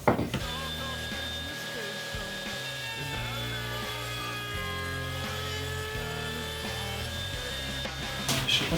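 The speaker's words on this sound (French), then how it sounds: "On va juste au préalable passer un petit coup de fraise quart de rond pour arrondir les angles." Router fitted with a quarter-round bit rounding the top edges of a small wooden stool, a sustained loud whining motor with shifting pitch as it cuts, close by and continuous with no talk.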